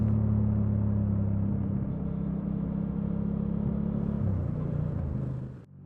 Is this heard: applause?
no